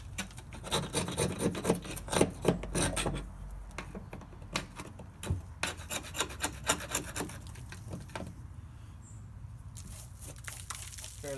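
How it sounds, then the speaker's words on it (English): A razor blade scraping heat-softened paint off a wooden window frame during hot-air stripping: repeated close, raspy strokes in quick bursts with short pauses between them, and a brief spoken word near the start. "So just take a razor blade or something now and scrape that off."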